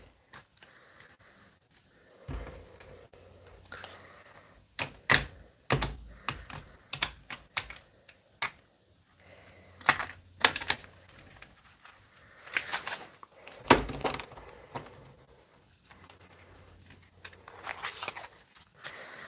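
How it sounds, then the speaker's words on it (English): Large tarot cards are shuffled in bursts of crisp riffling and tapping, close up, with quiet pauses between the rounds. "I've got to shuffle them like this because they're so big"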